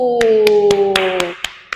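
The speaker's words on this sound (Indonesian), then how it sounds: "Tepuk tangan untuk cerita kita hari ini." Children clapping in unison after a storytelling session, seven sharp evenly spaced claps under a sustained sung or chanted voice that fades out partway through.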